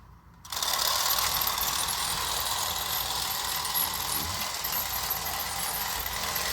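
A cheap toy train set engine runs and pulls its cars, starting abruptly into a steady, close mechanical whirring buzz that holds evenly to the end.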